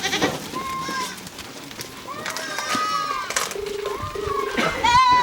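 Goats bleating on a farm in Uganda, several calls rising and falling across the scene at moderate distance, with people talking and other farm noise in the background.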